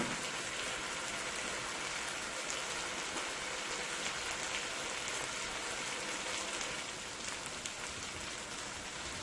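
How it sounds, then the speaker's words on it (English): Tilapia frying in a pan for a coconut milk fish curry gives a soft, steady, even hiss of sizzling oil, quiet but constant with no breaks or talking. "You're going to let this fry for about 3 minutes, 2 to 3 minutes."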